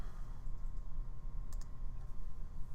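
A computer mouse gives a couple of quick, light clicks close by over a quiet background hum, with no talking.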